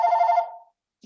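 A single short electronic telephone ring heard indoors during a meeting, a bright warbling tone that fades after about half a second, followed by a faint brief sound.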